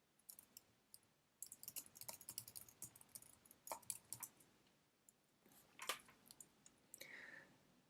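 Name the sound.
typing a password on a computer keyboard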